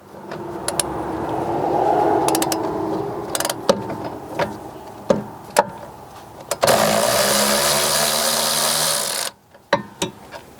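Power tool working on the caliper cable bracket bolt of a 2013-2017 Honda Accord's rear brake, with a sustained whirring burst and a separate loud run, broken up by metallic clicks and clanks.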